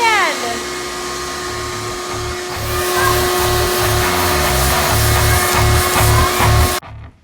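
A vacuum cleaner held by hand runs loudly and close while cleaning up after a hole is cut in a wall, a steady whine over a throbbing low rumble that cuts off abruptly near the end.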